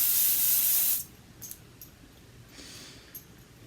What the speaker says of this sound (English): All right, let's get to spraying.